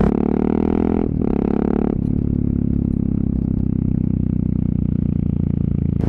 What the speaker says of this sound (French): T'as juste le son de l'échappement, t'as pas trop le bruit du moteur.